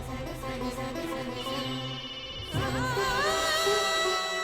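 An electronic ringtone plays a repeating tonal melody over background music, shifting to a brighter warbling pattern partway through, with no voices.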